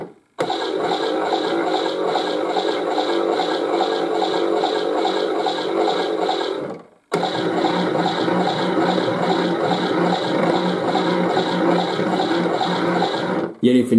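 A Zanussi Auto K2214 toy washing machine runs a wash cycle, giving a steady close whirring motor hum with sloshing water that stops briefly midway, then resumes and continues.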